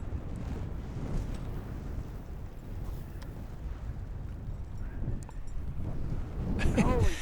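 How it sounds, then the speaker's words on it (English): Strong wind and rough lake water buffet a fishing boat out on the water, a loud continuous low rumble of wind noise and slapping water, rising toward the end with a brief whistling sweep. "I really don't have to tell you that it's windy or rough out here. I'm certain that you can see and hear that for yourself."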